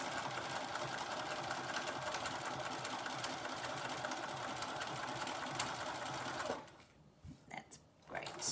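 Steady, close whirring of a sewing machine stitching around a binding, running unbroken for several seconds before stopping abruptly, followed by a few soft handling noises.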